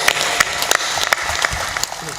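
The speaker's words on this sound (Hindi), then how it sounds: "तालियां जोर से बजाइए, कितना धीरे ताली बजाते हो, और जोर से बजाओ" An audience at a Hindi spiritual discourse by Sant Shri Asang Dev claps, with sharp sharp bursts of applause rising and falling over about two seconds amid crowd noise.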